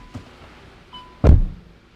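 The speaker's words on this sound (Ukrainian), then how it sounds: "Ви чуєте, як двері закриваються?" The door of a 2019 JAC iEV S4 electric car shuts with a single solid, close thunk after a couple of faint small clicks.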